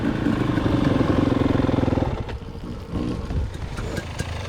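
A 250cc KTM motorcycle engine rumbles loudly nearby with a rapid pulsing beat, then the revs drop and the engine sputters and clatters at lower throttle.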